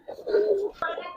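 Giribaz pigeons of one bloodline coo in a low, throaty warble, close by, with a brief knock partway through and speech-like murmuring alongside.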